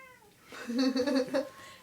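A pet cat meows during an indoor podcast conversation, giving one drawn-out, rising-and-falling call that sounds close and moderately loud, with a faint tone fading just before it.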